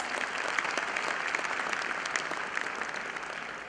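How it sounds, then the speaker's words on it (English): A conference audience applauds steadily for a foreign delegate receiving a bouquet, dense even clapping from a moderately distant crowd with no talk over it. "Please give a big round of applause."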